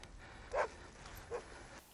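A dog in a movie scene gives two short, faint barks or yips about a second apart, set against a quiet background.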